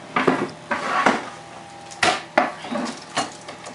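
Part of an onion is chopped with a knife, heard as sharp separate knocks on a board, about eight strokes at an uneven pace, close and clear with no talking.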